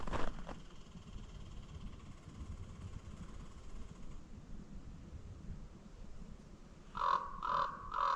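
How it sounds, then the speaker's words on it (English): Crows in a winter forest, with a faint low call near the start and then three loud, rapid, oddly pitched calls close by near the end, heard against quiet ambient background. "That weird noise there, believe it or not, it's actually crows."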